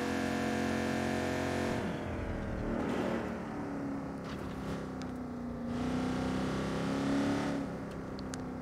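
In Watch Dogs 2, a car's engine roars loudly and continuously, its pitch dipping and rising again as the vehicle revs and shifts, heard up close with no voices over it.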